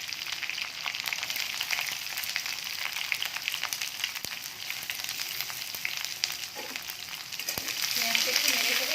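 Chopped onion fries in a pan for sambar, a dense steady sizzle with sharp clicks of a spoon stirring, close up and moderately loud throughout.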